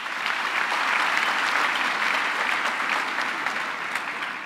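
Steady, dense applause from a university graduation ceremony audience fills the hall, loud and continuous without pause, with no talking over it.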